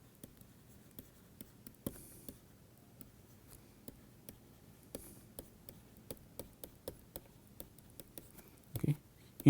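A pen writing out a mathematical procedure in a quiet room, giving faint scratches and light taps in short irregular strokes, with a brief louder rustle near the end.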